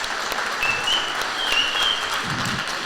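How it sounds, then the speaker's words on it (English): An audience claps steadily at a high school senior awards ceremony, dense, sustained applause filling the room for the whole stretch, with faint whistles on top. "Give them a round of applause."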